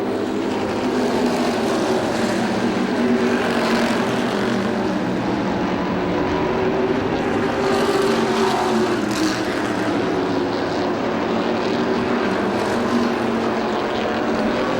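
Modified race cars circle Motordrome Speedway in 2005 in a steady, loud engine roar that swells and fades slightly as the pack passes, with no voices over it.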